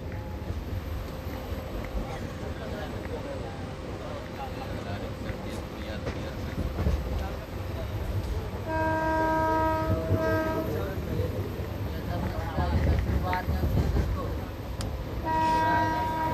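Rumbling run of a crowded local train on the route near Thane, with a steady roar of wheels and carriage noise throughout, a horn sounding in short tonal blasts in the second half, and faint voices mixed in.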